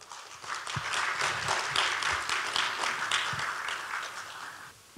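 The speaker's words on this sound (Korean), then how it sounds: "뜨거운 박수 부탁드립니다." An audience at a smart mobility seminar opening ceremony gives sustained applause that swells after a moment, holds steady at moderate level, and fades near the end, heard a little distant with no talk.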